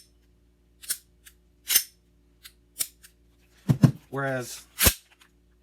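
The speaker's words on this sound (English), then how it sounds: "It's a very deliberate trigger press." Trigger on an airsoft Glock fitted with a Cow Cow trigger, pressed repeatedly: sharp isolated clicks spaced irregularly, close and crisp, with a brief voice near the end.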